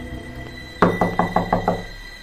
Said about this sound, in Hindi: जब दरवाजे पर अचानक दस्तक हुई।